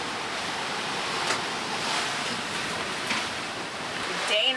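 Ocean waves rushing past a sailboat on passage toward the Galapagos, a steady broad wash of water with gentle swells, close and constant, with a brief faint voice near the end.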